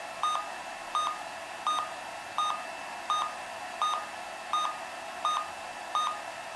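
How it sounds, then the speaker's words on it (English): A radio transmitter for a Durafly D.H.100 Vampire 70mm EDF jet model gives a steady run of short identical beeps, evenly spaced about every 0.7 seconds, clear and close with nothing else around. "Okay, so the timer and notifications work."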